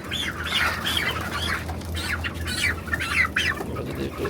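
Broiler chickens, 26 days old, cluck and squawk in a modern environmentally controlled poultry shed, a steady chorus of overlapping calls over a constant low fan hum.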